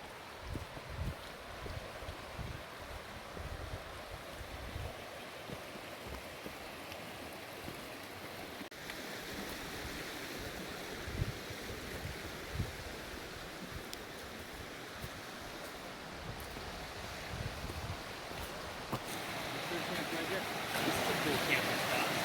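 A river rushes steadily at a hiking trail crossing, a continuous wash of flowing water with wind noise on the microphone, the sound swelling toward the end.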